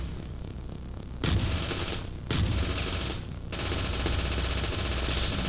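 Rapid automatic gunfire in the video game Teleglitch, loud and close, coming in sustained bursts with two sharp onsets and brief pauses between them, no talking.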